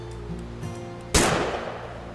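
A single sharp gunshot in the video game What Remains of Edith Finch, a loud crack with a decaying tail standing out from a quiet, faintly humming background.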